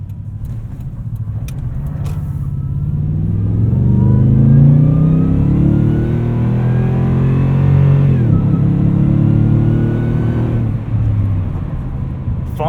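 A supercharged 2015 Toyota Tundra TRD Pro pickup revs hard under acceleration, its engine and exhaust rising in a loud, sustained roar that climbs, dips briefly at a gear change, then builds again, heard close from inside the cab.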